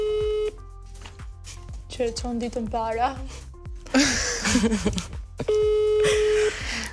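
A telephone call placed from a talk-show studio: a steady electronic dial or ringing tone opens, then people talk over the line, and the tone returns near the end, loud and close.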